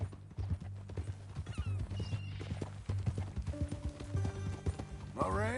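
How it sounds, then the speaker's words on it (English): Horse hooves clip-clop steadily on the ground in a Western frontier video game, a rhythmic clatter under a low droning score, with a brief whinny near the end. "That a new horse?"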